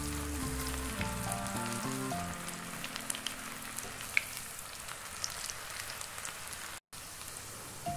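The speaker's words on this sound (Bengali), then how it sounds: "তো তেলটা আমার গরম হয়ে গেছে, এখন আমি এই অল্প অল্প করে বেরেস্তাটা এখানে ঢেলে দিচ্ছি।" Cauliflower beresta fries in hot oil with a soft, steady sizzle like light rain, close by and fairly quiet, with a faint low hum early on and no talking.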